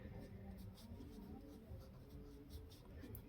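A pen scratches out an answer for a class 7 maths exercise on paper, light rapid strokes running under a steady voice speaking close by.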